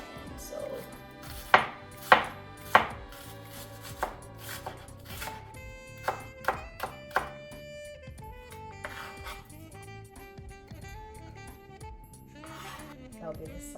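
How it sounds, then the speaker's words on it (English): Onion and tomato chopped into medium pieces with a knife on a board for Kenyan kachumbari: sharp bursts of close, loud chops, then a quicker run of lighter cuts, with talk and background sounds in between. "you chop the onion and the tomato really small"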